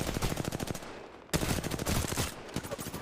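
Automatic gunfire in the video game Apex Legends, rapid loud bursts of shots with a brief pause in the middle before firing resumes, close and alone without talk.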